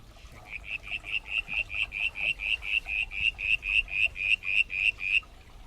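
A frog call played back from the FrogID app outdoors: about twenty rapid, evenly spaced high chirping pulses in a steady run lasting around five seconds, clear and moderately loud over quiet background hiss.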